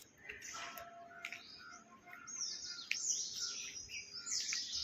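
Sparrows chirp in quick, bright bursts, several birds overlapping at close range against a quiet outdoor background.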